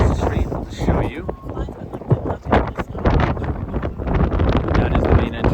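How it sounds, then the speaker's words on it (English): Gusty wind buffets the microphone on a street near the World Trade Center memorial in New York City, rumbling loud and uneven throughout, while a person talks over it. "It's a little bit windy on the west side, so we're not going to cross the street."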